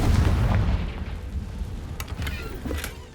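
A Confringo fire spell blasts off in Hogwarts Legacy, a loud booming burst at the start that rumbles and fades, followed by a few scattered crackling impacts.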